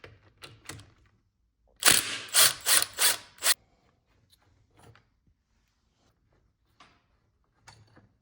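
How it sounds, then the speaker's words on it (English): Bolts of about 15 mm on the stock transmission mount of a 2004–07 Cadillac CTS-V being broken loose with a hand tool: a close, loud burst of four or five rasping strokes, surrounded by quiet garage handling noises. "So the stock trans mount has 2 15 millimeter bolts on each side. We'll just go ahead and break those loose."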